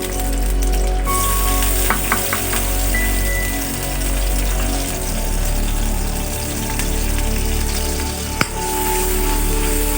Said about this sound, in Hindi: और इस ऑयल में जो कूटे हुए मेरे पास लहसुन, अदरक और छोटी छोटी हरी मिर्च है,